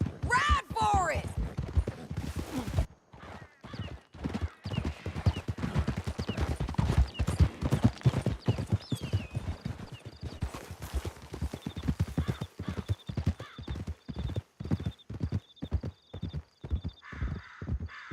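Rapid hoofbeats of horses galloping hard through a canyon in Red Dead Redemption 2, a steady drumming clip-clop that runs throughout with occasional whinnies and voices over it.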